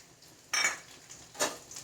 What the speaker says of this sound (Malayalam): അപ്പോഴേക്ക് ഞാനിതിലേക്ക് വെളുത്തുള്ളി ഇട്ട് കൊടുത്തു.